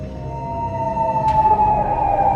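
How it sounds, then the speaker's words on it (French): An ambulance siren arriving, a steady high wailing tone rising in loudness as it nears, with a short sharp click partway through. "L'ambulance est arrivée."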